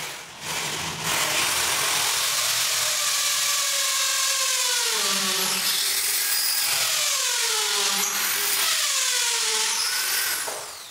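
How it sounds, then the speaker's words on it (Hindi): An electric drill bores a hole into concrete to mount a screen bracket, giving a loud, continuous grinding whine for about ten seconds that shifts in pitch as pressure changes, with no talking. "ड्रिल मशीन से एक कॉन्क्रीट का जो ड्रिल होता है उसको होल डाल लें एक"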